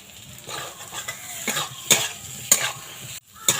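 Spiced potato filling for vegetarian samosas fried and stirred in a pan, a soft sizzle broken by a few sharp spatula scrapes and clinks against the metal, close and without speech.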